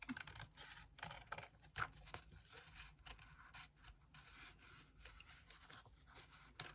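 Paper being cut with scissors while making a scrapbooking art journal letter, a quiet run of soft snips and rubbing, scraping contact at close range with no talk.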